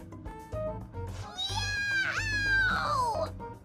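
A cartoonish cat meow from the video game Persona 5 Royal, a drawn-out, pitch-bending voiced cry over a soft musical background, close and fairly clear.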